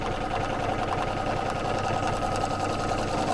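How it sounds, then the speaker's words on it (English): A sewing machine quilts a continuous line, stitching a chenille strip onto a baby quilt, with an even, uninterrupted mechanical whir nearby throughout. "we're quilting in a continuous line"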